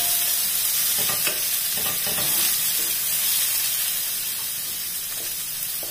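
Onion and garlic sauté in a hot pan with a steady, loud sizzle, while a spoon scrapes and stirs in intermittent bursts throughout.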